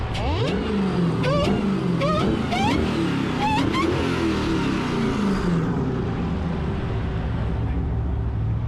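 A cammed Dodge Charger Hellcat with an upper pulley and green belt revs hard as it accelerates, its loud engine roar carrying a rising supercharger whine in several surging pulls before easing into a steady drone.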